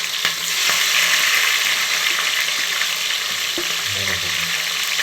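Onions, green chillies and tomatoes frying in hot oil for Dindigul-style mutton biryani, a loud, steady close-up sizzle with occasional stirring scrapes and clinks.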